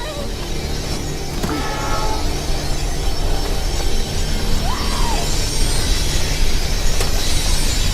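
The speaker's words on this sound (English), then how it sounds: "The train's coming!" Rumble of an approaching train in the game Life Is Strange, a loud continuous roar with metallic squeals and clanks building steadily throughout.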